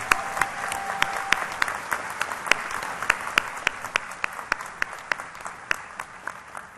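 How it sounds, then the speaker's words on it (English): Applause at a college graduation commencement ceremony, a large crowd clapping steadily in a big hall with individual claps standing out sharply, sustained for several seconds at a moderate distance. "I think they all deserve 2 rounds of applause."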